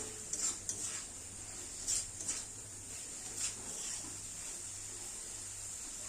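Pangas fish curry with potatoes being stirred in a pan over raised heat, with soft scraping and clinks of a spoon against the pan at irregular intervals over a faint steady background hum.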